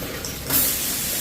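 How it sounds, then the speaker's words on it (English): Water pours from a bathtub spout in a remodeled home's tub and shower, a steady rushing hiss that swells louder partway through and runs on without talk. "Then you can go down to the tub with this button."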